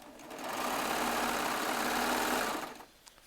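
A serger sewing machine runs steadily for about two seconds stitching jelly roll charm square seams, a loud, even mechanical whir that ramps up, holds, then winds down, with no talking.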